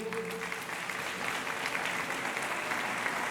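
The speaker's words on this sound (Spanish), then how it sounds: "dale un fuerte aplauso a nuestro Dios" A Spanish-speaking church congregation applauds, a full, continuous roar of clapping from a large crowd that stays even throughout, with a brief voice at the start.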